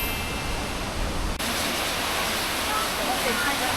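Powerful rushing water at Jok Kradin waterfall, a loud, continuous broadband roar that fills the whole clip without letup.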